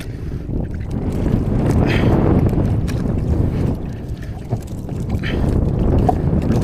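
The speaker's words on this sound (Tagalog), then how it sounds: "Malakas ng hangin mga amigo." Strong wind blows over a tuna fishing boat out on the Pacific, a continuous loud rumbling gust noise with a little water wash, swelling and easing but never stopping.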